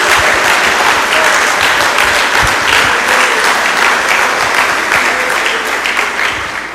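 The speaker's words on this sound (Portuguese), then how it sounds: "Dá uma salva de palmas a Jesus." A church congregation claps in sustained, dense applause during a Portuguese-language sermon, a loud wash of hand claps holding steady throughout and tapering slightly at the end.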